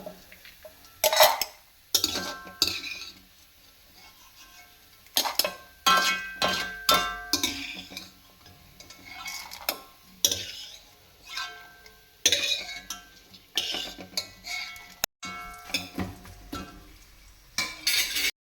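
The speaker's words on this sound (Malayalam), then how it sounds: "നമുക്ക് ഇത് പൊട്ടുകടലയാണ് നമുക്കത് ചൂടാക്കിയെടുക്കാം" Dry roasting of pottukadala, roasted gram for a Kerala aval mixture, in a pan: repeated scraping, stirring and clinking of a spoon against metal comes in irregular bursts throughout, close up and fairly loud, with no talking.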